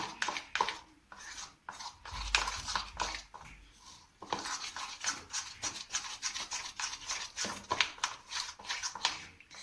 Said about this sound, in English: 2 teaspoons of cocoa powder and going to mix thoroughly